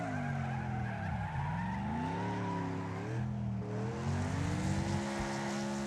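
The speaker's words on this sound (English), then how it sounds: "Now that was a handbrake turn." A car slides through a handbrake turn in the racing game Wreckfest, tires squealing in a long sweeping skid over a droning engine whose pitch dips and climbs, loud and close with no talk.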